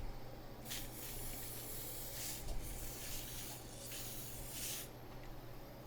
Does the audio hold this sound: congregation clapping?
no